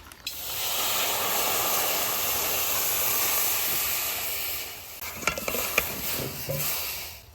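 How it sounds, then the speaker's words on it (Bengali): Taro boils in a pot with a continuous steamy hiss and bubbling, followed near the end by a few clinks of a utensil against the pot. "এবার কচুটা একটু সিদ্ধ করে নেব।"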